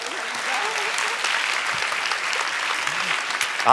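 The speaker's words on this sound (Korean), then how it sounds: "두 분께 박수 부탁드립니다" Audience applause at a church community worship service, a steady dense wash of clapping from many hands lasting throughout, with some faint voices mixed in beneath.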